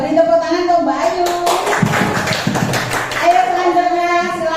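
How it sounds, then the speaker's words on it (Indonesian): A small group claps briefly in a classroom-style session for a participant named Ayu, close and lively, in a short burst between stretches of voices talking. "beri tepuk tangan untuk Mbak Ayu"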